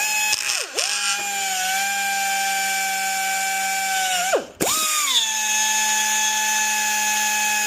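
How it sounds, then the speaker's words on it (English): An air Dremel whines at high, steady pitch while cutting a panel on a 1998–2013 Harley-Davidson Touring motorcycle, close and loud, bogging down twice under load before spinning back up. "So I'm going to take an air Dremel and we're going to carefully cut these out."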